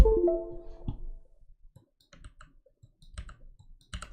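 Keyboard keys click in short, sparse taps, close and fairly quiet, with scattered clusters of presses after an opening thud.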